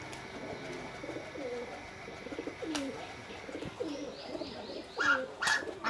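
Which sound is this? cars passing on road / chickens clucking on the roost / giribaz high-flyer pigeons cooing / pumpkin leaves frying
giribaz high-flyer pigeons cooing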